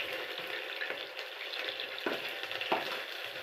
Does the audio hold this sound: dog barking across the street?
no